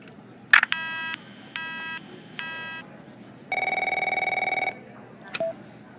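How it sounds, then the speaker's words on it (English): A telephone gives three short electronic ring bursts, then one longer sustained ring, clear and close, ending with a brief click. "My phone's ringing off the hook here."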